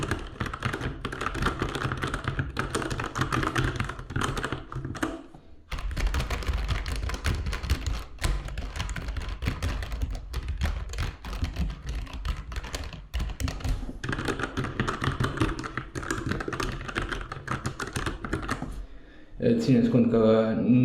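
Steady, dense clicking of a Logitech G915 low-profile mechanical keyboard with clicky switches, typed continuously at close range with only a brief pause, quite loud throughout.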